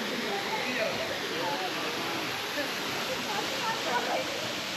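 A clear mountain stream in McLeod Ganj rushes steadily, a dense, close roar of flowing water that holds an even level throughout, with voices in the background.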